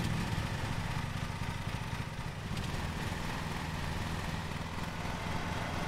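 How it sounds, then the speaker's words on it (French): A riding lawn mower tractor in Lawn Mowing Simulator, an articulated model, starts up and runs with a steady low engine drone that stays loud and continuous throughout, with no talk over it. "X pour allumer le moteur"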